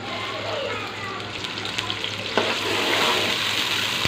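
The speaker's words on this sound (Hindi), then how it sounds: "प्याज को हम भूनेंगे।" Onions sizzling as they fry in hot ghee for aloo chicken shorba, a steady close hiss of oil that swells a little louder toward the end, with no voices.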